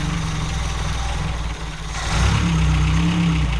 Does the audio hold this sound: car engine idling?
yes